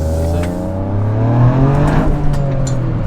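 Car engine fitted with a new intake and exhaust accelerating hard, its loud rising harmonic growl climbing in pitch across a few seconds, close and with no talk.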